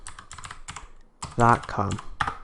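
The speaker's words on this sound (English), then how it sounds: "Go up into your search bar up here and type in the URL zoom.com," Typing a website address into a browser search bar on a computer keyboard, a run of quick close clicking keystrokes with brief pauses, louder in the second half.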